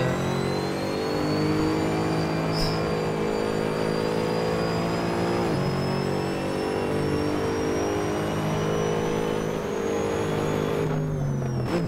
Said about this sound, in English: Just listen to that V8 roar. It's one of my favourite sounding cars.